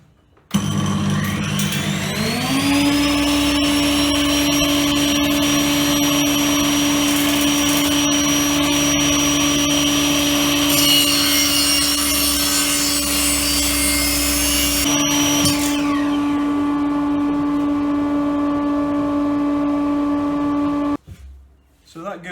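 A table saw with a sled and mitre gauge spins up to a steady loud whine, then cuts a 45 degree angle in a piece of wood for a dowel centre finder, the pitch dipping briefly before the motor winds down.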